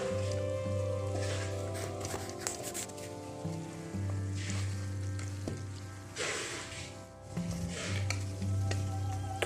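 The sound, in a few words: chicken karahi with spices cooking in a pan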